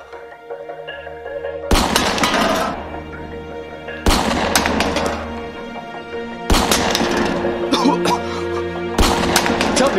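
Gunfire at a shooting range in a comedy skit, four loud, sharp blasts at roughly even intervals, each ringing out in a decaying tail between shots.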